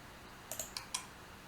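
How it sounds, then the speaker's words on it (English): A few quick computer mouse clicks while saving a file, four light taps in close succession, faint over a low background hum. "I click save."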